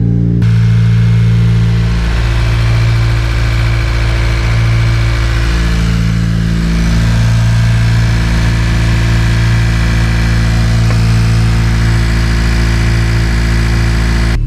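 A Honda Type R car engine runs at a loud, close, steady idle for the full length, a deep unbroken drone with slight fluctuations and no voices.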